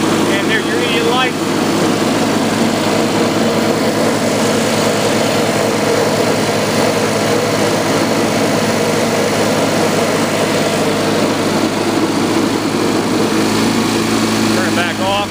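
A Cub Cadet 1420 Hydro riding lawn mower engine runs steadily and loud throughout, a continuous close drone with speech over it.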